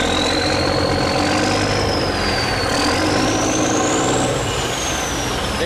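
A boat engine runs loud and close at sea, a steady heavy drone with a high whine that rises and falls throughout, and no voices.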